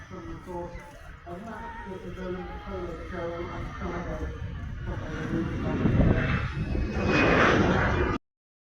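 Jet airliner, an Airbus A320-family plane, landing: a loud, steady engine roar and rushing air swell toward touchdown, close and continuous, with a voice talking over it.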